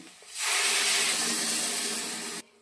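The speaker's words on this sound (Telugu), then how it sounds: "ఇలా చింతపండు నుంచి తీసిన రసాన్ని పోపులో వేసుకుంటున్నా." Tamarind juice hits a hot tempering of spices for a spiny gourd (boda kakarakaya) gravy and bursts into a loud, steady sizzling hiss that swells quickly, holds for about two seconds, then cuts off.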